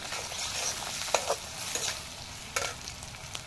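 Ginger, garlic and turmeric frying in oil make a steady hiss, broken by a few sharp crackles and the scrape of stirring. Close and moderately loud, with no voices.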